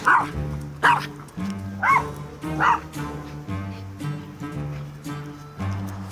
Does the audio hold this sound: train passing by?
no